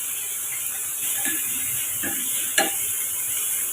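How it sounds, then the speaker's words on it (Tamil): Spices being sautéed in a pan while making a quick wheat dosa breakfast: a continuous soft sizzle and hiss with gentle stirring scrapes and one sharper utensil clink, close and without speech. "இப்போ இதை நம்ம ஒரு நிமிஷம் நம்ம வதக்கி விட்டுக்கலாம்"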